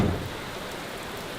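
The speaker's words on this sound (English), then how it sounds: "it's raining, and it's like it hasn't been dry for the past 2 weeks" Heavy rain pouring steadily after about two weeks of wet weather, a dense even hiss with a slightly louder low rumble at the start, continuous and close with no talking.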